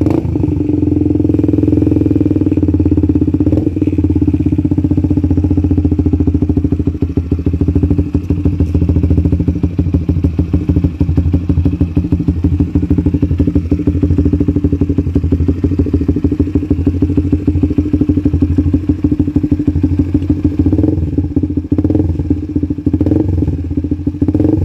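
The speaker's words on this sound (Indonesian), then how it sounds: "Ini motor gue kenapa deh, belum dipanasin." A Honda Sonic 150R motorcycle engine, not yet warmed up and fitted with an aftermarket R9 exhaust, idles and revs loudly and continuously up close, with a deep throaty exhaust rumble and occasional mechanical clatter.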